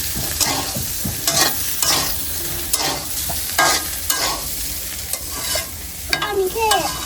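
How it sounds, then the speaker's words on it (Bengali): Cauliflower frying in a pan is stirred up close, with repeated scraping strokes at an uneven rhythm over a steady sizzle. "নাড়া দিয়ে দিতেছি ভালোভাবে।"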